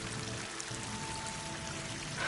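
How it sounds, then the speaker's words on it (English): Steady rushing waterfall in the open world of the video game Horizon Forbidden West, a dense continuous roar of falling water that stays even and fairly loud throughout with no talk. "That waterfall must be coming from somewhere."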